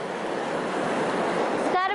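A river rushes down a valley below with a continuous broadband roar of turbulent water, loud and steady, and a brief voice enters near the end.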